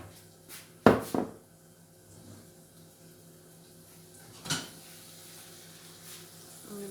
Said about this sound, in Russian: Ребята, наливаю сюда яичко и распределяю по всей сковороде. Вот так будет жариться наше яичко.